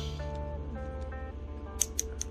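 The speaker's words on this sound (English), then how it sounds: "we do get a waist turn, very clicky, so you know it's stable" Action figure (Marvel Legends Lady Deathstrike) waist joint turned by hand, giving a few sharp, close clicks near the end over a quiet background hum.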